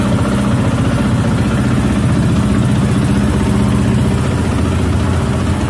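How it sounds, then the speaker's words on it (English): A freshly rebuilt motorcycle engine runs steadily, a loud, continuous rumble with an even firing pulse close by. "Running again, another successful engine rebuild."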